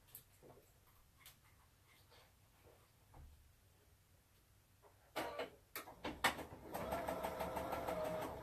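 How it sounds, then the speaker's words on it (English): A Bernina sewing machine stitches fabric for a quilted flower pillow, starting quiet and then running in louder, steady bursts of rapid mechanical whirring near the end. "all you're going to do is sew it right down here because you just want to attach it"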